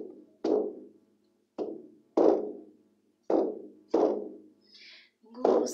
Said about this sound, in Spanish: Este instrumento se llama caja chayera.